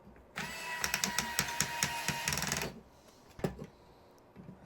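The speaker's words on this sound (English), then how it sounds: "A couple screws go in here." Small screws are driven into pieces of a wooden marble clock track, producing a close, rapid run of clicking and ratcheting taps for a couple of seconds before stopping, followed by a few isolated knocks.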